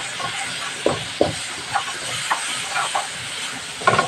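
Squid hits a hot pan for sautéing, giving a steady steamy hiss and sizzle with a few sharper crackling pops scattered across the few seconds.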